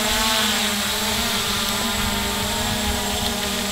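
An MJX Bugs 3 brushless quadcopter drone hovering close by, a loud, steady, high-pitched propeller whine with a constant tone throughout and no talking.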